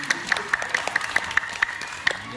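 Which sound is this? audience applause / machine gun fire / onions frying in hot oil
audience applause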